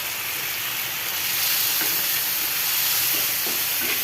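Turmeric and chili powder fry in a hot pan, giving a loud, steady sizzle and hiss that swells slightly midway.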